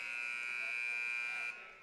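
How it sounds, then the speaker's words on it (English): A buzzer at a varsity boys wrestling dual meet sounds as one steady, loud electronic tone lasting nearly two seconds, then cutting off to a quieter room tail. "then you hear the buzzer go off again"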